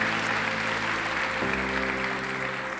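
A church congregation applauding, a dense sustained wash of clapping heard at a distance, with a low steady tone underneath.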